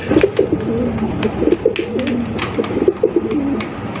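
Black gola pigeons coo close by in a loft, a steady run of soft, throaty rolling coos repeating throughout without any talk.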